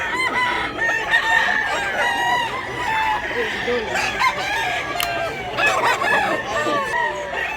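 Chickens and roosters at a poultry market, with repeated crowing and clucking from several birds close by over a busy, continuous background.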